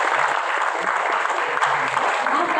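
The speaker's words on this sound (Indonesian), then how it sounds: "Tepuk tangan kepada BSI" Audience applause for a bank at a young entrepreneurs' onboarding event in Jakarta, a steady dense clapping from a crowd that fills the whole stretch without pause.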